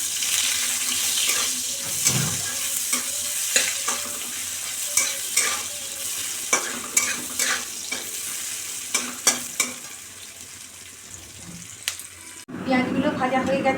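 Chopped onions sizzle and fry in a pan of hot oil with whole spices for an egg malai curry, with steady crackling broken by frequent spoon scrapes and stirring clatter, close up throughout and no one speaking.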